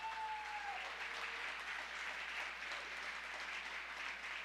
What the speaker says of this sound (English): Can we please applaud her?